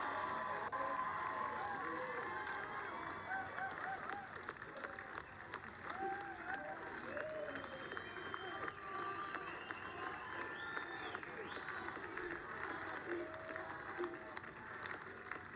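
A crowd applauds and cheers Robert F. Kennedy Jr. after his debate speech, sustained clapping close by with scattered whoops and a voice murmuring underneath.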